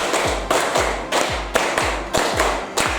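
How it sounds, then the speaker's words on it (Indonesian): A physical education class claps a five-beat pattern in unison, loud nearby group claps grouped into repeated bursts with brief gaps between them. "2 kali tepuk lima."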